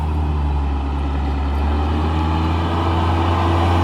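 A group's second jeep on the route from Utror Valley toward Izmis Lake rumbles close by, its engine holding a steady, loud low hum with no pauses.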